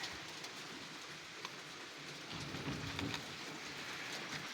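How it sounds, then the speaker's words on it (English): Heavy rain falls steadily on a rainy day in Arkansas, making a continuous soft hiss with scattered drops and a faint low rumble, no voices. "It is a very rainy, dreary day here in my little area."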